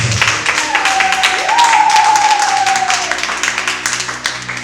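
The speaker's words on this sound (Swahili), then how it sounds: "tunaweza tukamchapia Bwana Yesu makofi kwa ajili ya mtumishi wake Bishop Victor" A church congregation applauds for Bishop Victor, a dense wash of clapping running for several seconds with a sustained voice or tone rising briefly over it.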